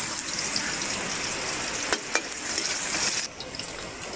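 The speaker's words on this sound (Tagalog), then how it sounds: "Igisa na natin yan." Ginger, chili, onion, bay leaf and whole peppercorns sizzle steadily in hot oil, a close, continuous hiss with a few soft clinks of stirring partway through.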